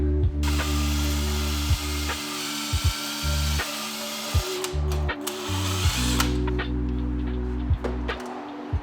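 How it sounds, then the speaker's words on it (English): Wire wheel on a power drill cleaning Honda D16 engine parts, the drill whirring in repeated bursts that start and stop, with scraping chatter as the wheel hits the metal, close and loud. "I'm gonna take just a little like wire wheel and hit all that."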